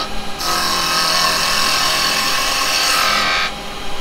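A gouge on a woodturning lathe hollowing out a spinning wooden piece, giving a loud, continuous scraping hiss of cutting that starts abruptly and stops after about three seconds.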